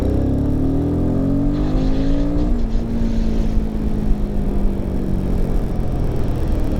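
A Royal Enfield Himalayan 450 motorcycle pulls away in third gear from low revs, its engine note rising steadily in pitch as it accelerates, loud and close with steady wind rush beneath it.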